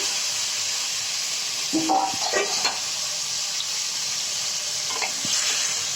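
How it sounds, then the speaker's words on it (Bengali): Spice paste sizzles in hot oil with vegetables for a rohu fish curry with tomato and flat beans. A steady frying hiss is broken by a few louder stirring scrapes and bursts of sizzling. "এবারে মশলাটা ভালো করে কষিয়ে নিয়ে এর মধ্যে আগে থেকে কেটে ধুয়ে রাখা সবজি দিয়ে দিচ্ছি।"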